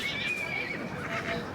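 Horses whinny at a Royal Welsh Show main ring, mares with their foals, one bright neigh riding over steady crowd and ring noise with hoof sounds underneath, near and fairly loud.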